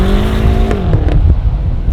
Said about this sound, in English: As we trundle along the highway here